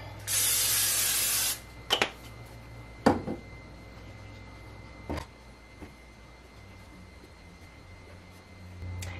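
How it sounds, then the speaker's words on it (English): A short hiss of cooking oil aerosol spray onto a baking pan, followed by a few clanks and taps and then quiet room tone. "I am going to lightly spray it."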